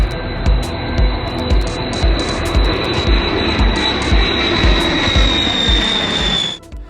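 A US Air Force B-52 bomber jet lands at Fairford and passes close by, with a loud, sustained engine roar and a high whine that stay strong before cutting off sharply at the end.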